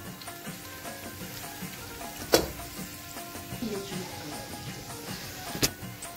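Onions fry in oil in a pan for fish biryani, a faint, steady hiss with soft stirring scrapes and two sharp clicks of a utensil against the pan.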